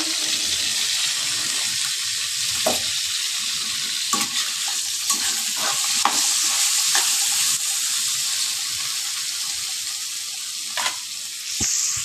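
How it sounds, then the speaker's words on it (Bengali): Pointed gourd and tomatoes fry in a pan with a steady, close hiss of hot oil. Faint stirring clicks sound now and then. "দুটো ভালো করে ভেজে নিই"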